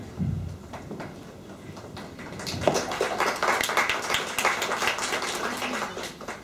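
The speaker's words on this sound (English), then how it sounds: "Big hand of applause" An audience at a talk applauds, the clapping building from quiet taps into a dense, sustained burst of many hands that carries on to the end.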